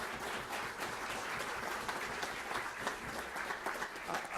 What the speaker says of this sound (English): let's give her another round of applause for doing such a great job